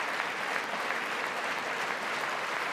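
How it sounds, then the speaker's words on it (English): Generals applauding during a joint session of Congress, a dense, steady wave of clapping from a large crowd filling the whole moment without a break. "Oh, the generals are clapping."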